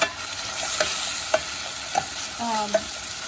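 Yogurt and tomatoes being stirred in a pan, a steady soft sizzle under repeated scraping strokes of a spoon at an irregular rhythm, close and moderately loud, with a few brief clinks.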